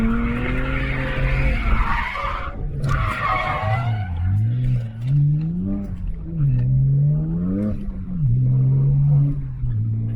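A BMW 335i E92 drifts on a track with a steady high tire squeal, while the engine revs rise and fall in a wavering tone underneath, loud and close throughout.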